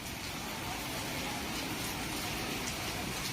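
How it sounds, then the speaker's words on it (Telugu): Rain with wind falling steadily at a hilltop temple during Krishnashtami festivities, a constant even hiss of rain on surfaces with no pause. "వెంటనే వర్షం గాలి వాన"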